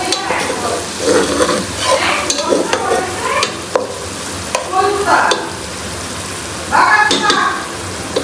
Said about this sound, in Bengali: পেঁয়াজ কুচি এলাচি দারচিনি লং তারপর হচ্ছে তেজপাতা এগুলো দিয়ে দিয়েছে এগুলো একটু ভেজে নিবে এখন